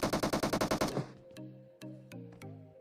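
Automatic gunfire in a battle royale video game rattles in a rapid burst of about ten shots, followed by a few sharper single shots and ringing tones, fairly faint overall.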